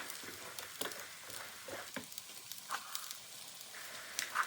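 Coral lentils are stirred into a curry in a pot, giving soft scraping and stirring sounds with a faint sizzle, quiet and close.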